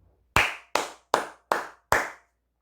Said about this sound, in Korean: 크게 박수 한번 치고 가겠습니다